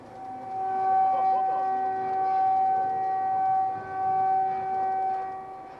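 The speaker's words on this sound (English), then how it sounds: "Air attack sirens are a regular sound across Ukraine, including this one" A long wailing air raid siren in Ukraine holds a steady tone, rising and falling gently in loudness as it drones on.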